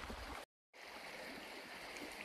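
Rapids of the Amata river along a nature trail, a steady faint rushing and gurgling of water over stones, continuous apart from a brief gap of silence near the start.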